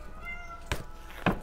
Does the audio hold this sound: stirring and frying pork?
no